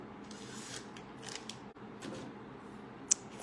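Scissors cut a short paper strip, giving a few soft close snips followed by one sharp click near the end.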